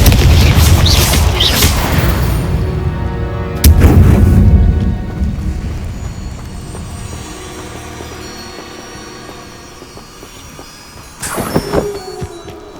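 Spell explosions from Confringo and Incendio in the video game Hogwarts Legacy: a loud blast at the start, another booming hit near four seconds, long ringing decays, then a final crackling burst near the end.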